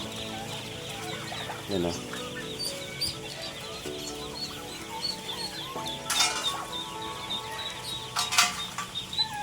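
Turkeys gobble and chirp in a busy flock, with repeated calls close by and a person talking over them.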